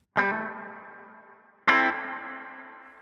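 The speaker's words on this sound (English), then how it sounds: "the Hoff Mini, which is the Hall of Fame Mini, which is just got a lovely plate setting on" A guitar plays through a Hall of Fame Mini reverb pedal on its plate setting: two strummed chords, each ringing out with a smooth, shimmering tail, loud and alone.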